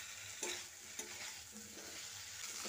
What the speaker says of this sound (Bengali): কপিগুলো দিয়ে মশলার সঙ্গে খুব ভালো করে মিশিয়ে নিচ্ছি